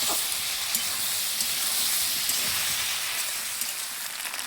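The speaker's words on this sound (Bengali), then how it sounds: "হলুদ দিলাম, ভাজা ভাজা হোক।" Potatoes, onion and tomato with turmeric fry steadily in a pan, giving a continuous close sizzle with faint spatula scrapes and no voices.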